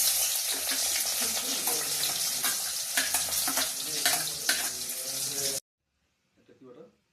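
Chopped onion frying in oil for biryani after the fried onion garnish is done, giving a loud, steady hiss that stops abruptly near the end, followed by a brief faint rustle.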